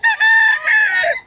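A young rooster (stag) crows loud and close at a poultry market in Bocaue, one strained, slightly wavering call lasting just over a second.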